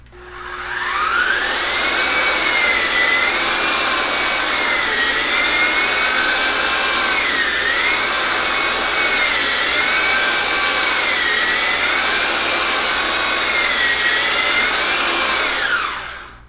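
A Festool MX 1200 E EF handheld mixer churns thinset with water, a steady loud motor whine and whirring paddle rising and dipping slightly in pitch for about fifteen seconds before spinning down.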